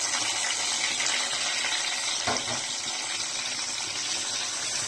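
Spice paste of chopped onion, garlic, turmeric, chili, coriander, cumin, ginger paste and green chilies hitting hot oil for chicken curry, giving a loud, steady hiss of sizzling with a brief stronger burst midway.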